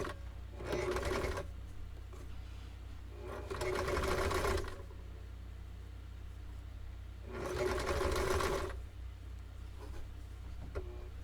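A home sewing machine stitching a Kwik Sew pattern garment runs in three steady whirring bursts of a few seconds each, with quiet pauses between them, close and moderately loud, and no one talks.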